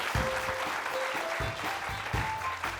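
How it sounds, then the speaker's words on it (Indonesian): A studio audience applauds on the stage of a TV comedy show. The clapping is steady and dense, with a few louder thumps, and is heard briefly. "Tepuk tangan untuk Rocky."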